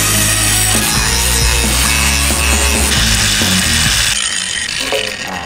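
Loud, continuous grinding of a power tool on a steel surface, cleaning off cement residue before welding a floor beam to a house post on a DIY Japanese-style walkway build; the whine runs steadily throughout with shifting pitch.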